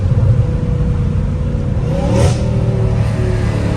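A Dodge Hellcat Redeye accelerates hard, its engine roaring loud and close with a rising whine and a brief sharp burst midway, no talking.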